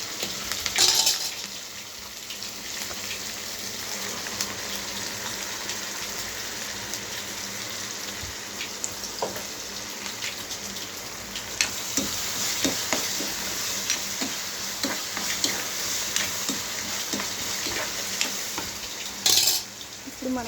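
Prepared paste fries with curry leaves in hot oil for tomato curry, a steady crackling sizzle broken by occasional spoon stirs and two brief louder clatters.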